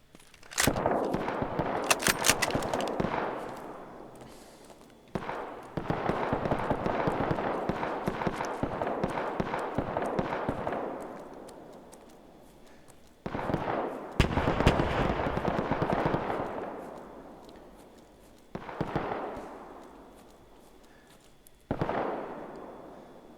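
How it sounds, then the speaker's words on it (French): Gunfire from a Roblox war game, Guerre de l'Est, comes as repeated loud bursts of shots and explosions, each decaying into a rumbling tail, with several separate volleys spread over the stretch. "ma balle a servi à rien. J'ai tiré pour le fun."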